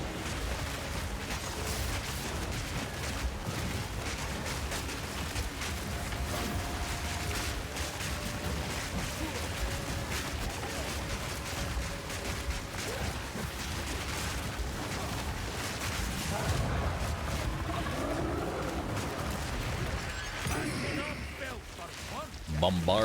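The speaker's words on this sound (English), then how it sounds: "That's a lot of explosions." Dense, continuous rumbling blasts from Path of Exile 2 combat with a Bombard crossbow, a steady loud barrage filling the whole stretch, with game effects layered and a voice talking over it.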